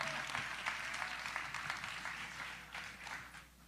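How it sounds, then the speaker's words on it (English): Polite round of applause at an NCAA Men's Final Four 2023 press conference, a modest group clapping quietly in a room, steady at first and thinning toward the end. "Let's give a big Houston round of applause for Joanne Scott and Miss Charlotte."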